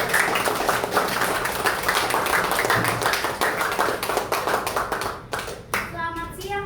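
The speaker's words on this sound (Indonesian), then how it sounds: "Silakan berikan tepuk tangan dulu ke Mikaela." A classroom group claps for Mikaela, a dense patter of many hands at moderate distance that thins out and stops, followed by a voice starting to talk.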